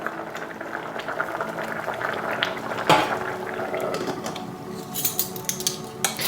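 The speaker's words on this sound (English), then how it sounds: "Reducing the heat and allow it to boil away." A pot of vegetable curry bubbles at a lively boil, a close, continuous burble with occasional metallic clinks and pops.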